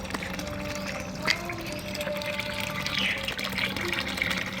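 Water running and dripping steadily from the control outlet of a JUNY automatic float valve, a continuous close hiss with small splashes and a faint steady tone underneath.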